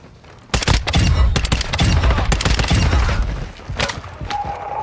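Sniper rifle fire in the video game Warzone DMZ comes as a rapid series of loud, sharp cracks and booms clustered closely together, followed by scattered quieter shots and a faint electronic tone.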